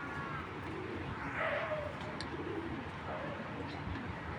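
Racing pigeons coo softly nearby, low throaty calls over a background of rustling and faint ambient noise.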